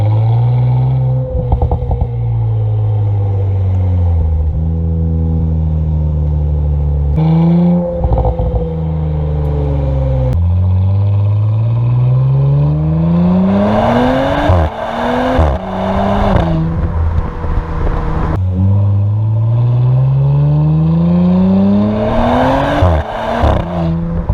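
A loud Audi S4 engine in sport mode with exhaust valves open revs up repeatedly in long rising sweeps, crackling and popping as the throttle lifts between pulls, close by with no talking.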